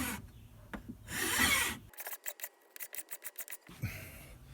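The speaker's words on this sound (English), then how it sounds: "I'm going to just keep filing away till I get some of that, all that material down" Hand filing on rough wood for a WWII belt display build, heard as a run of short, evenly spaced rasping strokes up close, after a few longer scraping passes.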